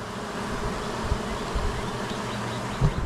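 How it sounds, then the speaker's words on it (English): A swarm of honeybees droning in a steady, dense hum, close and continuous, with a few soft bumps and handling knocks underneath. "God, look at all them bees."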